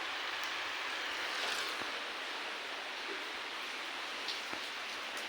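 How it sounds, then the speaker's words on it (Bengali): Heavy rain falls steadily as a dense, even hiss, with occasional louder drips and taps standing out against the constant wash. "বৃষ্টি করতেছে অনেক।"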